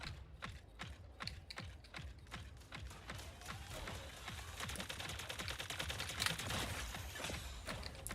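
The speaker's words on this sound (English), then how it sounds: "Those chain guns are so loud. It's literally... That sound's coming from the Zephyr, by the way." Chain guns firing from the Zephyr in a shooter game, a rapid stream of sharp repeated shots that starts spaced and rhythmic and then accelerates into a dense, loud, continuous rattle.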